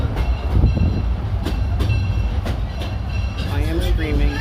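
Cedar Point amusement park ride train rumbling along steadily with low rail noise and faint clicks, while people talk over it throughout.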